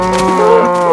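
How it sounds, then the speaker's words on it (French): Cows moo in a low-budget Minecraft-style video game, one loud drawn-out bovine call with a rising-falling harmonic tone filling the moment, close and alone with no talk over it. "Le bruit des vaches est insupportable."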